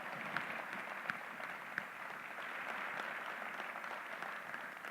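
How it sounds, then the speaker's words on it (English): Audience applause at a community and technical college system address, a steady wash of many hands clapping at moderate volume throughout, with a few sharper individual claps standing out. "How about a round of applause for all that you are doing out there in our community and technical colleges?"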